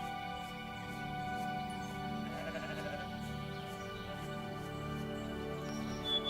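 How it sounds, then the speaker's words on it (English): Goats bleat repeatedly in a farm scene from the video game The Real Texas, layered over steady game music, mid-loud and fairly close with no talking. "These goats are getting out. No, hey, goats, come back."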